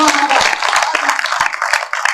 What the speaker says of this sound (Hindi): उसके लिए जोरदार तालियां।